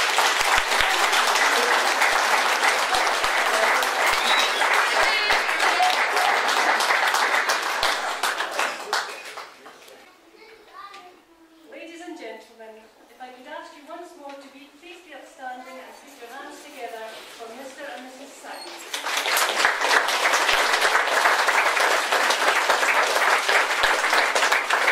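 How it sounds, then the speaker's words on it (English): Wedding guests applaud the newly married couple with loud, sustained clapping that fades into a quieter stretch where voices talk and cheer, then swells again into full applause. "I think that deserves a round of applause."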